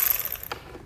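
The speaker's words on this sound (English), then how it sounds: "So let's grab an 8mm socket." Ratchet with an 8mm socket working a bolt on a 2019 Mercedes-Benz GLA fascia, a brief, close burst of fine metallic clicking.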